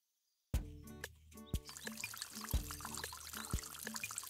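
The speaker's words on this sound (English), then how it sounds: "It's raining!" Cartoon rain falling on an apple tree: a trickling, pouring wash of water sounds with a few sharp percussive hits, starting abruptly after a moment of silence and continuing steadily.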